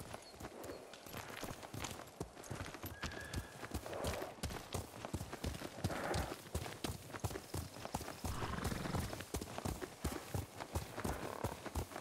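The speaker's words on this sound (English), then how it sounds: "You're a good horse, Kage." Horse hooves clip-clopping in the video game Ghost of Tsushima, a steady quick rhythm of close, clear hoofbeats that carries on throughout with no one speaking.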